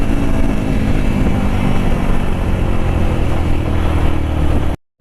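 A Hero Xpulse 200 motorcycle engine runs loud and steady, a close continuous drone with no clear rises in pitch, before cutting off abruptly at the end.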